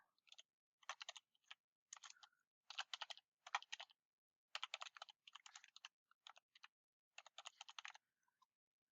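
Typing on a computer keyboard, with bursts of quick key clicks separated by short pauses, close and fairly quiet, no talking.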